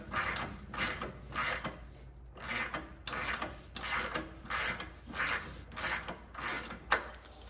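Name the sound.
ratchet removing nut on BMW rear shock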